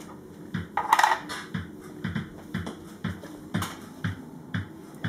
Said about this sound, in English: Let's put another couple of coins down there.